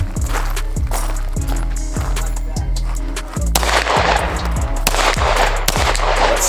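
A Desert Eagle pistol fires at a shooting range, loud booming shots in a quick, fairly even series of about seven reports, followed by denser, noisier rumbling and clatter.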